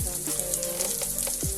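Onion, ginger-garlic paste and tomato frying in a pan, with a steady close sizzle and faint stirring scrapes throughout, no voices.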